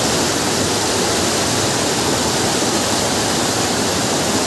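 A powerful, steady roar of rushing water from a waterfall and strong current, loud and continuous throughout with no pauses.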